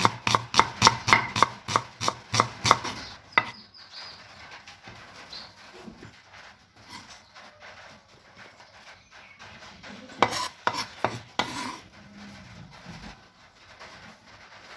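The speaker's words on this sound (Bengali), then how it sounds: "আলু ভাজার জন্য দুটো পেঁয়াজ নিয়েছি ছোট ছোট সাইজের তাকে একটু স্লাইস করে নিচ্ছি" Two small onions sliced with a knife on a cutting board, giving close, crisp, rapid chops in two bursts. Softer handling noises fill the pause between them, and no one speaks.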